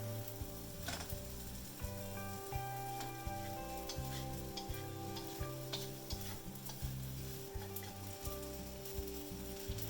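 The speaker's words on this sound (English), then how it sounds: "Stir fry for 1 minute." Beef chow fun rice noodles and bean sprouts are stir-fried in a hot pan, with steady sizzling under repeated scraping and tossing strokes that fall into a loose rhythm.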